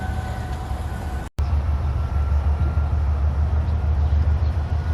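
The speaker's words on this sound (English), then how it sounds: "you hear the trains and stuff in the background" Trains rumble past in the background at an outdoor fair site, a steady low mechanical roar with a faint high whine, continuous apart from one brief dropout.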